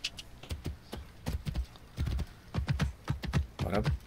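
Horse hooves clip-clop in Assassin's Creed Origins, a rapid, uneven string of close hoof strikes on hard ground as the mount moves along, loud and alone without speech.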